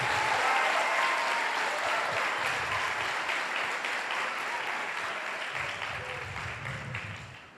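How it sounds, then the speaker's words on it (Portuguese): Church congregation applauds in a loud, sustained roar of clapping that fills the room, holding steady for several seconds before slowly tapering off, with faint voices mixed in underneath. "Aplauda Jesus."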